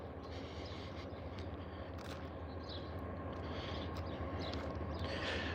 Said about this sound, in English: you're just in time to hear the morning train